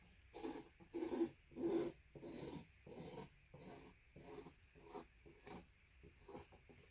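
A tool scrapes paint off the side of a poured-paint canvas in a series of rough, rasping strokes, close and fairly quiet, with short pauses between them.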